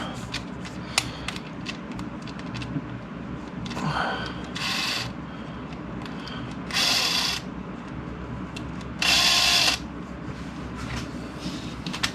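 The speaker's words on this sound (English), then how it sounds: "Now I'm going to put this on the drill, and it's going to be a lot faster." Three short bursts of an electric drill spinning an engine valve against its seat during valve lapping with compound, each a second or less, separated by quieter scraping and handling noises.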